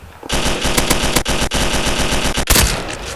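Rapid automatic gunfire from the video game Kuboom, loud and continuous with dense repeating shots and a sharper burst near the end, no talk over it.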